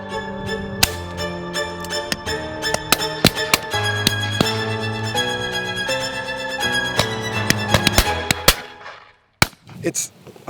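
A 20 bore shotgun firing Game Bore Regal 28 gram cartridges, with several sharp loud reports at irregular intervals over continuous background music.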